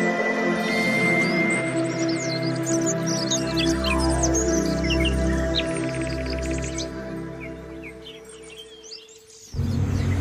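Caged songbirds, magpie robins and bulbuls among them, chirping and whistling in a bird kiosk, many overlapping bright calls over a low steady hum that cuts off sharply near the end.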